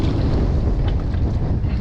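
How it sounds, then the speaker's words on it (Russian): Strong wind gusts across open sea aboard a small fishing boat working longline nets, a steady loud roar of broadband wind buffeting with low rumble throughout, no voices. "Ветер еще все сильнее и сильнее поднимается."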